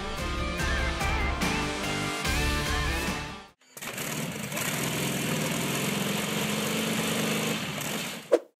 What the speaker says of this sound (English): To save money, the engine was converted to run on propane fuel.